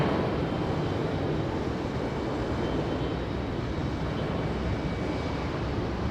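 A Breeze Airways airliner at Raleigh-Durham airport gives a steady, broad jet roar that holds at a moderate, distant level throughout.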